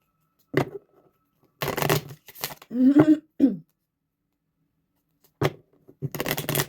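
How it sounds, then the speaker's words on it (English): Tarot cards are shuffled in several quick riffling bursts separated by silence, close and crisp, with a throat clearing or cough in the middle. "Shuffle."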